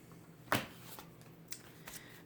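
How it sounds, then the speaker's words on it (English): A deck of tarot cards being cut by hand, with one crisp riffling snap followed by a couple of softer card slaps, close and quiet with no talking. "I'm not going to let the cards fly out, but I'm just going to cut the deck"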